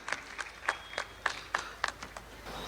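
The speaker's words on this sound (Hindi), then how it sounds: "जोरदार तालियों से इस्तकबाल करें" Sparse, fairly quiet clapping welcoming a poet at an Urdu literary festival, with a handful of distinct claps landing in a loose rhythm and no dense crowd roar.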